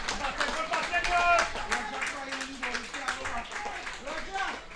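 A crowd at an under-17 Trinidad and Tobago versus Guyana cricket match claps for a batsman reaching fifty; scattered applause runs beneath a commentator talking.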